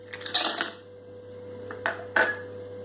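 A few sharp clinks and rattles of ice cubes dropping into a mixer jar for an oats smoothie, one cluster near the start and two more clinks after a pause, over a steady hum.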